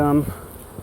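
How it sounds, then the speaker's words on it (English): Agitated honeybees buzz close by outside their hive, a brief burst of droning that fades within a fraction of a second. "let them go back inside the hive because they're out here and being a little angry at the moment"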